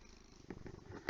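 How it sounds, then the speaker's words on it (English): A house cat's soft, low purr rumbles near the microphone for a brief moment, faint and steady with a slight swell toward the end. "You can hear my cat purring in the audio."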